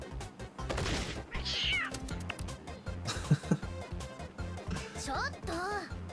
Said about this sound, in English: It's got a talking cat.